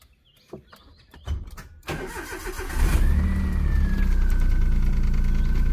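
A 2007 Maruti Alto LXi car starts up: clicks and a cranking starter, then the engine catches at about three seconds and settles into a steady, fairly loud idle with a whining tone.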